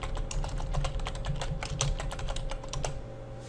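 Rapid typing on a computer keyboard, with dense, irregular clicks of keys pressed close to the microphone and a steady hum beneath, no voices.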